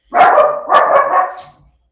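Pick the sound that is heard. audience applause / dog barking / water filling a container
dog barking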